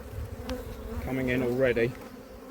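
Honeybees buzz close around a beekeeper and camera near hives with new queens, a rising and wavering drone growing louder mid-clip, with a brief spoken remark near the start.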